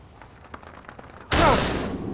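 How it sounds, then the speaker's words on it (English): A single loud gunshot fired at a bird cracks out after quiet rustling, its blast decaying over the final second outdoors. "That was a hell of a shot, son."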